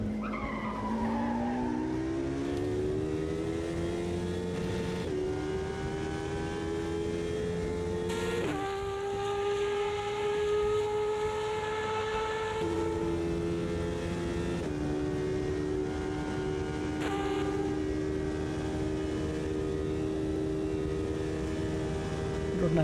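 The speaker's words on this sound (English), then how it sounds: "Oh, glorious V10." V10 race car engine in the Automobilista 2 racing game, a loud, continuous high-pitched wail that rises through the gears with sharp upshifts and drops, lifting off and revving again through a chicane.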